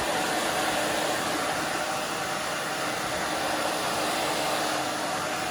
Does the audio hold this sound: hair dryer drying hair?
yes